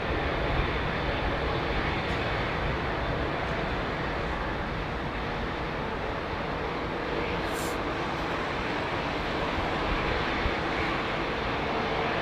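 Steady, loud broadband roar of an airliner's engines at London Heathrow Airport, heard from inside the plane as a continuous wash of noise with no breaks for the whole stretch.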